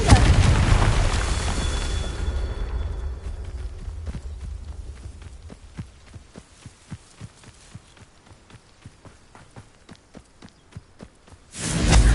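A Confringo spell explodes in Hogwarts Legacy as one loud burst that fades into a long, booming tail. A run of rhythmic thuds like footsteps follows, and a second burst erupts at the end.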